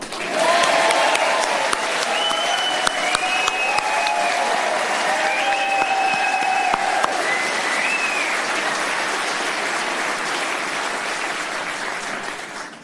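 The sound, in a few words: round of applause for a speaker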